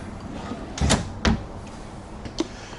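Drawer or closet door in an RV at a Florida RV show opened with a couple of soft wooden knocks and thumps, a fainter bump following a second later, fairly close in a quiet room.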